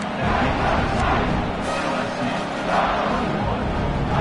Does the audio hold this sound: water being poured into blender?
no